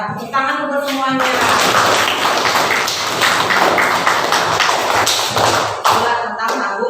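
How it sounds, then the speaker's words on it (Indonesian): A group of students applauds in a classroom, a dense burst of clapping following a brief spoken line and running for several seconds before tapering off. "Ya, tepuk tangan untuk semuanya."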